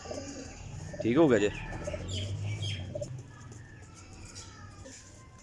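Teddy pigeons coo in a loft, with a brief louder burst of calling and light flapping, while someone speaks briefly nearby.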